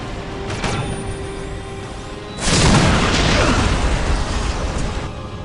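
A Whirlwind artillery tank firing in the Warhammer 40K: Dawn of War game, a single heavy boom followed by a rumbling, crackling blast that lingers and slowly fades over a noisy battlefield background.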